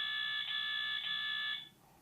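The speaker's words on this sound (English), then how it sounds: "it's a really loud alarm" Tapo C425 camera alarm siren at normal volume, a steady high electronic tone that stays loud and unbroken for about a second and a half, then cuts off abruptly, with no voices.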